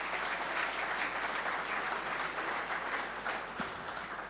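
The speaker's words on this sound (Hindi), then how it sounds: "अब मैं इन तालियों के उत्साह के साथ आपके साथ बातचीत शुरू कर सकता हूं।" Audience applause at a summit session, dense, sustained clapping from a large crowd that holds steady and then eases slightly near the end.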